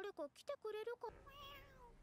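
A cat in an anime episode meows faintly, a short stretched call following a burst of speech.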